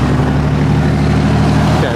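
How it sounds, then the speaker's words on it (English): Steady road traffic rumbles past a railroad crossing on Meighan Boulevard, US 278/US 431, a continuous loud engine and tire drone from nearby vehicles with no pauses. "I'm gonna wait for traffic here to pass"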